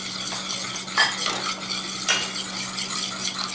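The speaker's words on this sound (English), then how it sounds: "You see how I'm constantly stirring it so that it doesn't clump up on me." Sugar and thickening syrup are stirred constantly in a pot, making a close, continuous scraping and swishing of a utensil against the pan, with a couple of sharper clinks and no talking.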